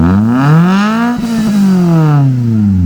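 A Honda Civic three-door's engine revs up and down in a smooth rising and falling whine, loud and close, with no talking.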